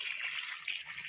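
Water pours steadily from a can onto plants, a continuous close splashing trickle with no voices over it.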